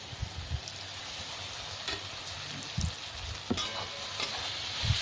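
Tomatoes added to masala frying in a pan for soya bean biryani: a steady low sizzle with several short scraping stirs and soft clinks, no speech.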